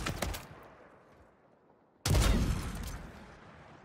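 Sniper rifle gunfire in the Warzone 3 shooter game: a rapid burst of sharp shots opens, a quieter tail follows, then a second loud, heavy blast arrives midway and rings out before another crack at the end.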